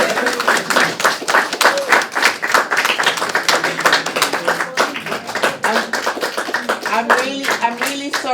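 An audience clapping at a talk on arts and homelessness projects, a lively burst of many hands with dense irregular claps at close range and a few voices underneath.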